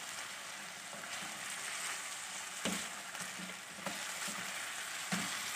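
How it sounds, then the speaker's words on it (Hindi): Chicken pieces frying on a medium-high flame for chicken jalfrezi, a steady close sizzle with occasional sharp clinks and scrapes of stirring, no talking. "उस पर हम इसको फ्राई करते रहेंगे 5 मिनट के लिए।"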